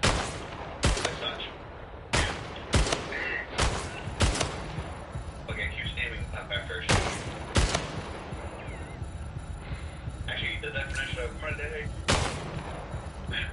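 Gunfire in the arena shooter Splitgate: sharp, loud shots ring out alone and in short bursts, spaced irregularly over a steady bed of game ambience, with faint talking underneath.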